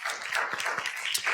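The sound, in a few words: round of applause for the judges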